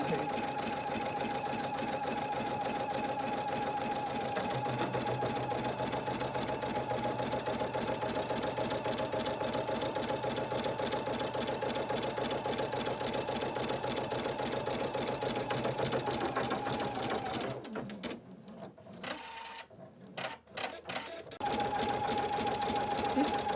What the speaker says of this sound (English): This lot of stitching also gives us our placement for the applique fabric, which will be attached next.